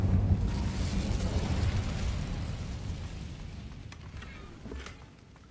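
Fiery spell burst in Hogwarts Legacy, a dense roaring rumble of flame and magic that holds steady then tapers off, with a few sharp crackling flickers near the end.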